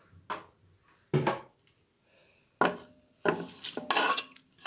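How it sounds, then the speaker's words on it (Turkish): Rough rasping strokes of a carrot against a grater come in separate bursts, a few single scrapes and then a quicker run of them, close up. "Havuç rendeliyoruz."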